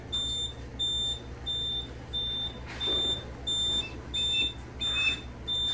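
A new Notifier NFS2-3030 fire alarm system sounds during testing, a loud repeating electronic beep in even regular pulses, with no talk.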